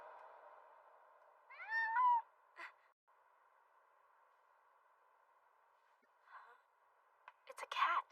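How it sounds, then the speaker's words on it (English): A cat in an anime fantasy scene lets out a rising, wavering meow over a steady background hum, followed by a few faint vocal sounds and a short breathy noise at the end. "It's a cat."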